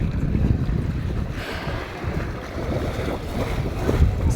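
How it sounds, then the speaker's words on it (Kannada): Water surges through the KRS dam in Karnataka, a continuous roaring rush mixed with gusty wind buffeting the microphone, with surging swells and no voices. "ಇಲ್ಲಿ ನೋಡಿ ನೀರು ಹೆಂಗೆ ಒದಿತಾ ಇದೆ ಅಂತ."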